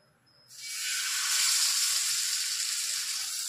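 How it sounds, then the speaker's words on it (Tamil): Marinated masala fish seasoned with chili powder and salt sizzles in oil on a flat dosa griddle, a steady, loud frying hiss that starts suddenly after half a second and holds evenly to the end. "இப்போ நம்ம சாதாரணமாக மிளகா பொடி உப்பு போட்டு வறுக்குது"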